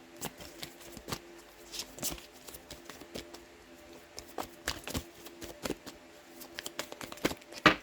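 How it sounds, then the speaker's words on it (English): A tarot deck is shuffled and cut by hand, giving repeated crisp riffling flicks and soft card slaps in irregular bursts, close and fairly quiet, with a louder flurry near the end. "Alright, let me cut the deck."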